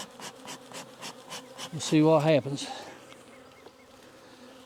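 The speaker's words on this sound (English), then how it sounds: "We got a lot of bees in this box." A box hive packed with honey bees hums with a dense, steady buzz, close to the ear, while someone speaks briefly over it and a louder tone swells for a moment midway.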